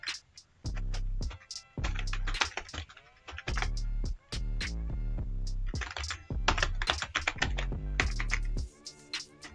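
Typing on a computer keyboard while entering a company name in Microsoft Word: quick, close, crisp key clicks in uneven bursts with short pauses, loud and clear with no talk.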